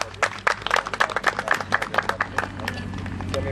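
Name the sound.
audience applause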